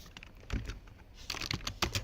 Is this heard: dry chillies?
no